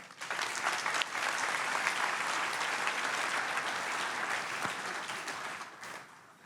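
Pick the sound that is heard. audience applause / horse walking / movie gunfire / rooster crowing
audience applause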